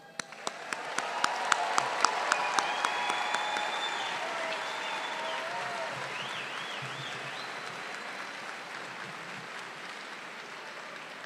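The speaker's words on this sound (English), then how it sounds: "let's give our May 2025 graduates another round of applause" Applause for graduates at a university engineering diploma ceremony, starting with a few scattered claps that swell quickly into a sustained round from a large audience in a hall, then holding steady and slowly thinning, with faint whistles and cheers riding over it.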